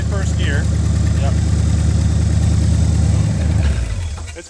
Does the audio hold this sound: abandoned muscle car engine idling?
yes